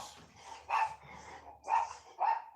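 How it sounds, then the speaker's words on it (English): Dogs barking nearby, several sharp barks and yips in an uneven rhythm, with quieter growly sounds between them. "It's your dogs."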